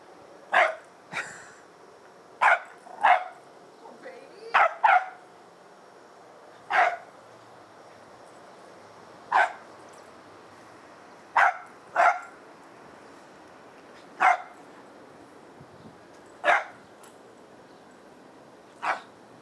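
A smaller, wolf-like dog being assessed for reactivity barks in sharp single and paired bursts, roughly a dozen spread irregularly over the span, fairly close, with quiet pauses between them and no talking.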